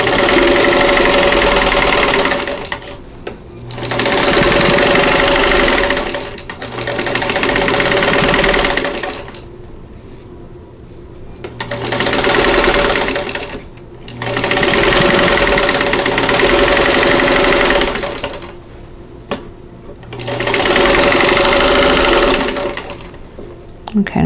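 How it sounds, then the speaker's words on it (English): A sewing machine runs in several long rhythmic bursts with short pauses while stitching a section of a Black Diamond quilt block, loud and close with a steady mechanical chatter. "Okay, let's sew this"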